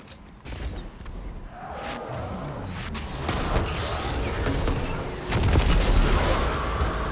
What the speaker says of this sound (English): If you notice grenades flying towards you